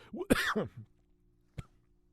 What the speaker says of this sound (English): that first cough kind of slipped into the live show